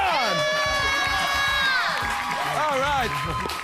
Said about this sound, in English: Give it up for our fabulous cast on Name Your Prize. Round of applause.